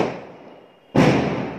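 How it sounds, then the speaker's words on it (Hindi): Diwali firecrackers burst, with a fading crackle and hiss first, then a sudden loud, broadband blast that keeps crackling densely to the end, close and with no talking. "लोग इतने पटाखे फटा रहे हैं"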